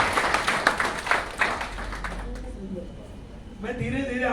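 An audience at a senior citizens' federation convention in Bhopal breaks into loud, dense clapping that fades away, then a voice speaks over the quiet hall.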